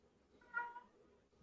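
A single short cat meow indoors, faint and thin, rising out of quiet room tone midway through and quickly fading.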